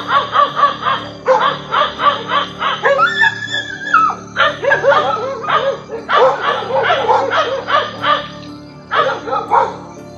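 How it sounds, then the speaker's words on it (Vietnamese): Several dogs bark repeatedly at night, loud, close bursts of yaps and barks in quick runs with short pauses, one yelping, whining stretch in between. "Chỉ có những con chó ở gần đó nhìn thấy và sủa liên hồi như muốn xua đuổi thứ bí ẩn kia."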